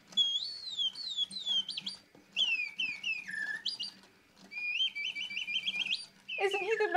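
An antique French automaton bird sings in a cage in a château apartment. It gives close, bright whistled trills and warbling phrases in several bursts separated by short pauses, with no talk over it.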